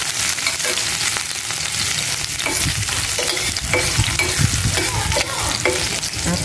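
Garlic is stir-fried in a pan with a loud, constant sizzle and crackle close by, while a utensil scrapes and stirs through it.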